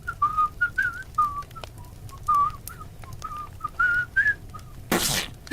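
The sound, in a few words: imitated whistling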